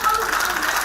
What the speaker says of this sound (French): manifester notre reconnaissance pour tout ce qu'ils ont fait à travers les acclamations.